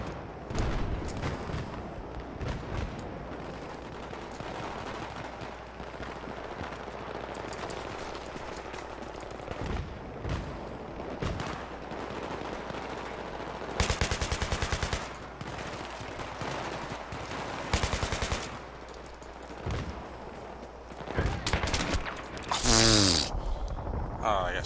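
Gunfire in Battlefield 3 on the Damavand Peak team deathmatch map: bursts of automatic rifle shots and sharp single cracks, some near and loud, over constant battle noise, with a person talking in places.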